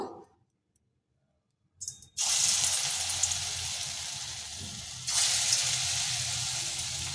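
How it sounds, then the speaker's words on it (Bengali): Fritters of ground pumpkin seed paste sizzle steadily in hot oil, a loud continuous frying hiss that starts abruptly after a quiet moment and swells again midway, with no talk. "এইবার এটাকে ভেজে নেব, বড়া করে নেব।"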